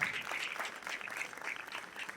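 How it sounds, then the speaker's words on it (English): Audience applause at a school annual fest, a steady wash of scattered clapping at moderate distance, fairly faint and sustained, with a louder burst right at the end. "A big round of applause for Mrs. Sonal, Ravi, and Rose."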